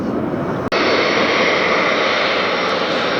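Loud, steady roar of jet airliner engines at Detroit Metro airport, a broad continuous rumble close by with a brief dropout near the start, no voices.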